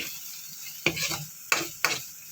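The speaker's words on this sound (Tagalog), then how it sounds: "Ginisang sardinas na may repolyo." Sardines stir-fry with cabbage and green and red chilies in a pan, giving a soft continuous sizzle broken by three sharp scraping stirs close up.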